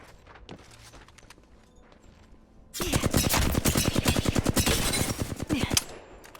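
Rapid automatic gunfire erupts in the Apex Legends video game after a quiet stretch, a dense loud burst of shots lasting about three seconds before cutting off.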